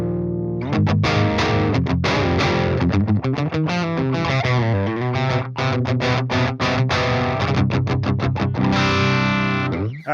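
An electric guitar runs through an ENGL Savage amp simulation with the noise gate switched off, playing heavily distorted chugging riffs and sustained chords. It is loud and dense, with rapid choppy rhythmic stabs and no talking.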